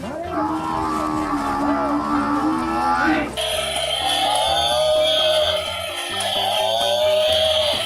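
A toy buffalo plays a loud electronic mooing call, a long drawn-out low bellow, followed by a bright looping toy melody close to the microphone.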